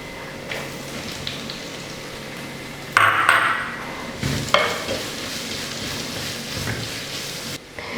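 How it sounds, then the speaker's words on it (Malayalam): Sliced onions for a Kerala-style duck and coconut milk curry sauté in a hot pan with a steady close sizzle, jumping louder as they go in, with a clink of a spoon against the pan. "ഇനി നമുക്ക് ഇതിനകത്തോട്ട് അരിഞ്ഞു വെച്ചിരിക്കുന്ന സവോള ചേർത്ത് കൊടുക്കാം."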